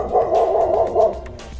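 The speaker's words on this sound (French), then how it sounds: "Un aboiement autoritaire a résonné dans l'air" Guard dog barking at thieves, a continuous loud run of gruff barks over a low rumbling background, close and without any talk.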